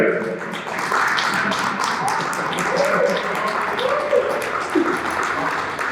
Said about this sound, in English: can we give a round of applause to the all Avengers?